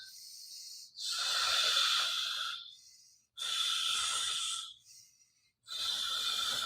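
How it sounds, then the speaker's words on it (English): Deep breathing during a rest exercise: three long, airy breaths, each lasting a couple of seconds and separated by short pauses, close and steady with no talking. "Breathe. 3 more breaths."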